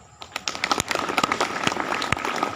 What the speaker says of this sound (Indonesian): Boleh dikasih tepuk tangan?